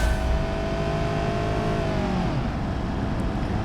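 Automatic car in the BeamNG driving game revving steadily, its engine tone holding, then dropping sharply as the transmission upshifts to a lower, steady drone, loud and close.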